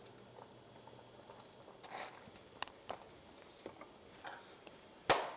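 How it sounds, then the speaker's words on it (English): Water boils in a pot on a stove for Russian dumplings, a soft steady bubbling hiss with occasional light clinks and knocks, faint and close. "our water is super boiling right now"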